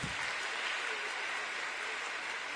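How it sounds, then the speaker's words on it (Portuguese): A church congregation applauds during a homily, a faint, steady hiss of many distant hands clapping that holds evenly throughout. "Aplauda para valer essa palavra."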